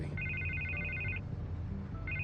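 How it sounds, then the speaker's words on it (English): A telephone rings in Telltale's Batman game, Episode 3: a bright electronic trill repeating in a steady burst for about a second, then a pause before it starts again, over a low ambient hum. "I can't get the phone to stop ringing."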